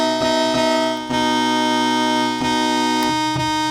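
Sawtooth wave from the DDS1 oscillator of a UDO Super 6 polysynth, bright buzzy sustained chords played alone, with several retriggered notes in quick succession.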